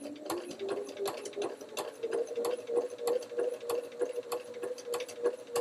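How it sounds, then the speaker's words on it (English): A sewing machine stitches a small quilt block, running as a steady, rapid mechanical patter of needle strokes close by, with no talking. "because it's a smaller piece, might need more adjustments as you sew to make sure you continue sewing straight"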